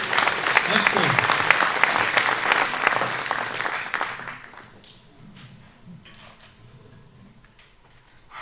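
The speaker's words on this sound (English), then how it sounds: "And let's give Kim a special round of applause." Concert audience clapping loudly at a proms-style show, a dense burst of applause that fades after about four seconds into scattered claps, light rustling and the murmur of the crowd.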